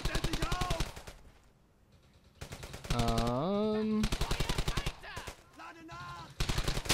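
Rapid bursts from a Browning automatic rifle in a World War II shooter game, loud and near, arriving in clustered volleys with pauses between them, while someone talks briefly over the shooting.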